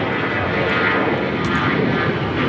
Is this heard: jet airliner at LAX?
yes